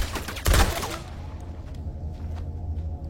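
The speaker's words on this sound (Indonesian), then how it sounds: "pasukan Jerman ini langsung menghujam tembakan-tembakannya" A sharp burst of gunfire from German soldiers cracks out at once, followed by a low rumbling echo and scattered faint pops fading into the background, in a Belarusian forest.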